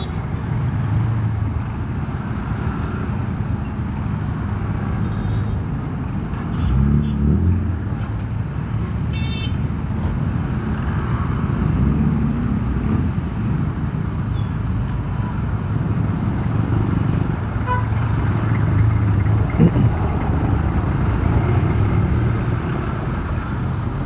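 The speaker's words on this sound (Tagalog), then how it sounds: "Traffic na talaga." Heavy evening road traffic on a drive from Santa Rosa, Laguna to Baras, Rizal, heard from inside a vehicle: a continuous rumbling drone of cars, trucks and buses with occasional air-brake hisses and passing engines.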